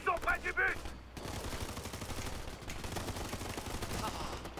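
Rapid automatic gunfire in the tactical shooter Ghost Recon Future Soldier, a dense sustained burst of shots running steadily after a short opening moment with a voice.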